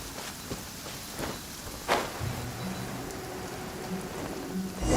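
Steady rain falls in Genshin Impact, a soft continuous patter with a couple of sharper drops and a faint low drone underneath, heard alone without voices.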